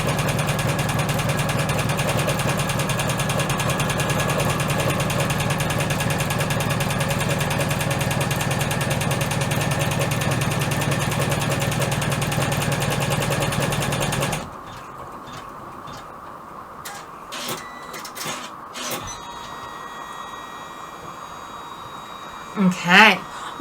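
Sewing machine stitching a fold-over top zipper bag, a steady whirring hum running continuously for about fourteen seconds, then stopping, followed by faint clicks and handling.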